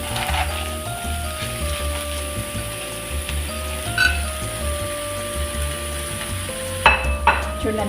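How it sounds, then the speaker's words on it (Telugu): Fresh spinach frying in a pan with cashews and tomatoes, stirred with a utensil: steady close sizzling under repeated scraping and clinking strokes, with a louder clatter near the end. "ఫైనల్గా పాలక్ వేస్తున్నాను."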